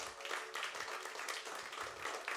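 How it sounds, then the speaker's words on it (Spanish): A church congregation applauding, a faint, distant wash of many hands clapping steadily throughout with no clear voices on top. "¿Puede darle un fuerte aplauso al Señor?"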